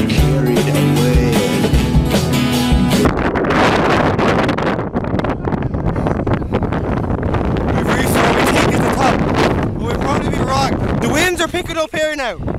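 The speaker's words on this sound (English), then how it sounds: "I feel it getting a little windy" Heavy wind buffets the microphone with a roaring, gusty rush that fills the whole clip, loud and close, with faint voices and motion noise underneath.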